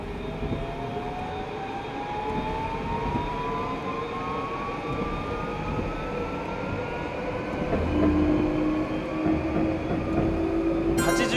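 Electric commuter train pulling away in Densha de GO!, a Keihin-Tohoku Line rapid service from Tokyo, with a whining motor tone rising steadily in pitch over a rolling rumble and a brief tone near the end.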